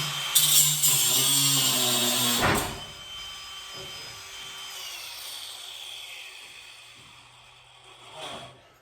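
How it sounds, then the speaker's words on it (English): An angle grinder cuts into a heavy riveted steel tank, with a loud, harsh whine and grinding for about two and a half seconds as the blade pinches. It then cuts out to a quieter hum and faint clatter. "It's pinching my blade and turning the grinder on."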